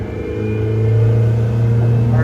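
Yamaha 75 outboard engine on a 2003 HarborCraft 18 aluminum boat, revving steadily: a loud, close, continuous droning hum with a deep steady tone that swells slightly as throttle rises.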